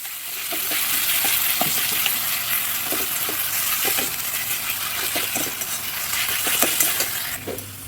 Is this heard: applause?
no